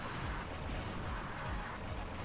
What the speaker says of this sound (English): I'm loving the explosions.